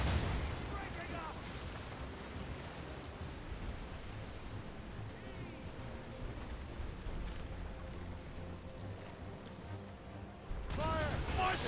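Cannon fire rages through a naval battle in Assassin's Creed Rogue: a dense, continuous barrage of booming rumble and crashing noise fills the whole stretch, with shouted voices heard over it and a fresh heavy burst near the end.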